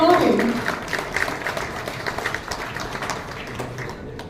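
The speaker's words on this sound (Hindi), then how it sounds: "Huge round of applause, everyone." An audience at an institute's 20th anniversary celebration applauds, clapping loud at first and then thinning and fading over a few seconds, with some voices under it.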